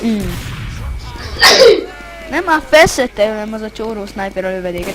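A short, sharp sneeze bursts out among players chatting over voice chat during a Team Fortress 2 match, and talk continues around it.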